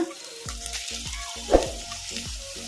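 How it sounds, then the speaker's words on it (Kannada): Chopped spinach and green chillies fry in a pan over a medium flame for a pepper and buttermilk curry, with a low steady sizzle punctuated by a few distinct scraping stirs and one sharper clatter near the middle, close and fairly quiet. "ಇವನ್ನೆಲ್ಲ ಮೀಡಿಯಂ ಫ್ಲೇಮಲ್ಲೇ ಫ್ರೈ ಮಾಡ್ಕೋಬೇಕು ಇದನ್ನ ಈ ಥರ ಕಲಿಸ್ಕೊಂತಾನೆ ಫ್ರೈ ಮಾಡ್ಕೋಬೇಕು"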